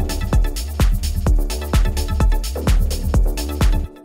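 Dry, plucky techno synth line with no effects, MIDI-like notes over a steady kick drum, with punchy short plucks in a regular four-on-the-floor rhythm, fairly loud and alone.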